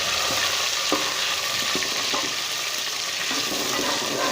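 Tomatoes go into a pot of basic spices, among them salt, chilli, pickle, garam masala and cumin, and fry with a loud constant sizzle. Stirring clinks and scrapes come through the hiss, and nobody speaks.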